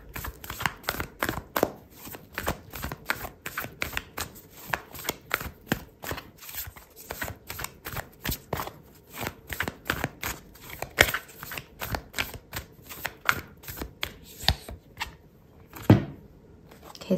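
Oracle cards are shuffled during a tarot reading, giving a long run of quick, dense papery flicks and riffles, close to the listener and alone, with a sharper knock near the end.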